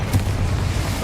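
Spell blasts such as Bombarda and Confringo cast in Hogwarts Legacy land as a short, steady low booming rumble with an early burst, about a second long and moderately loud, with no talking.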